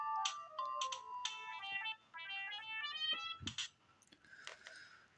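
A ringtone on a Siemens A55 mobile phone plays a swinging polyphonic tune of quick chiming notes, close and loud, briefly interrupted by a soft thump before the melody resumes.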